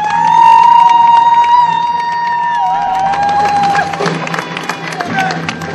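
A loud crowd at a store opening ceremony cheering and clapping, with whistles and shouts rising over a dense wash of applause.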